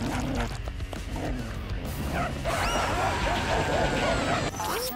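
A dog barking and yipping in a series of quick sharp barks over a busy background, fairly close, with a short whimpering tone among them.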